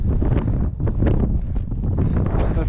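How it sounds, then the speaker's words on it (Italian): Strong wind on a high alpine ski-mountaineering route near Zumstein and Punta Gnifetti, over 4,500 metres, buffets the microphone in loud, continuous roaring gusts with brief dips, dominating everything. "C'è un vento, ragazzi."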